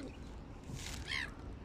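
A mother duck with her ducklings being fed outdoors, giving a brief quack or call over a steady background hiss, faint and at moderate distance.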